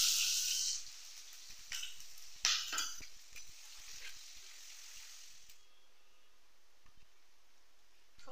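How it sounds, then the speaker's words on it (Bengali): Black cumin seeds and chopped onion hit hot mustard oil in a pan, giving a bright crackling sizzle that flares loudly at the start, with a few stirring clinks, then fades to a faint hiss. "তেলটা গরম হয়ে গেছে, দিয়ে দেবো কালো জিরা, দিয়ে দিচ্ছি কুচি পেঁয়াজ"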